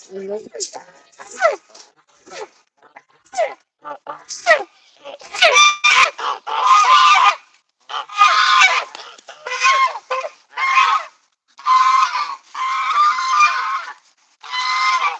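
Geese honk loudly and repeatedly in bursts as they are let out, close by, with a few brief squeaky calls mixed in.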